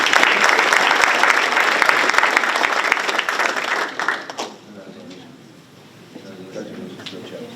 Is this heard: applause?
yes